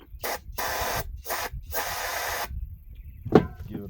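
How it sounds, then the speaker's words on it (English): Brake cleaner is sprayed into a small Craftsman wheeled weed wacker engine in three short hissing bursts, followed by a single faint knock. "Spray a little bit of brake cleaner in there."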